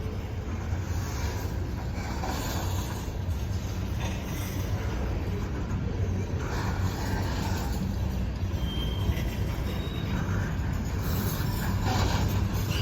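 A westbound Norfolk Southern manifest freight train passes the Hoover Road crossing, a continuous low rumble of rolling railcars with rhythmic wheel clatter and faint high wheel squeal, steady and fairly close.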